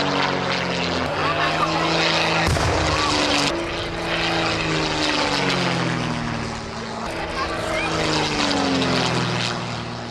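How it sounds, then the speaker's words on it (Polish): Replica BF-109 and JAK-51 propeller fighter planes fly overhead in a staged air battle, their engine drone loud and continuous with shifting pitch as they pass, under faint background voices. "wojna powietrzna, która rozegrała się pomiędzy replikami samolotów BF-109 oraz JAK-51"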